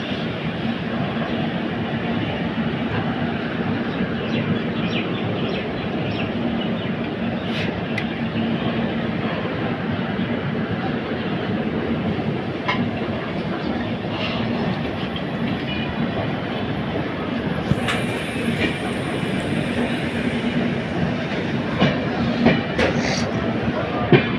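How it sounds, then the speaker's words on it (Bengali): The Padatik Express runs on the rails between New Jalpaiguri and New Alipurduar, a steady, loud rumble with faint clickety-clack heard from inside the carriage, with occasional sharp clanks. "নির্ধারিত সময় থেকে কুড়ি মিনিট দেরিতে আমাদের ট্রেন এসে পৌঁছালো"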